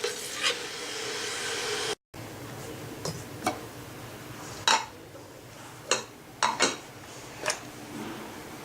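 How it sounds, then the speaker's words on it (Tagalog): A spoon stirs boiling oatmeal in a pot, giving scattered light scraping clinks and knocks against the metal over a soft bubbling hiss, with no talk. "Continue lang natin siyang i-stir para hindi siya dumikit."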